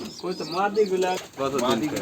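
Pigeons of several breeds, including high flyers, Giribaz, Pakistani and teddy pigeons, coo in a loft, a close, steady run of low throaty calls that rise and fall, with a second burst after a short gap.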